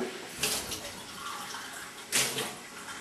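Water splashes and runs in a kitchen as a wooden spoon is rinsed during fudge making, with two short pouring bursts over a faint running background.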